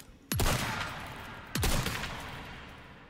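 A shotgun in the Resident Evil 4 Remake video game fires twice about a second apart, each blast loud and booming with a long decaying tail.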